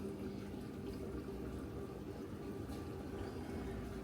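Mutton pulao simmering in a pot, a steady low bubbling of water cooking down with a constant gentle hiss throughout, no voices.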